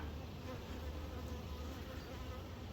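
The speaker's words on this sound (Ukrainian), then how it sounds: "чую по штанині лізе бджола" A bee buzzes faintly and steadily up close, crawling up a trouser leg near a beehive, over a low rumble of background noise.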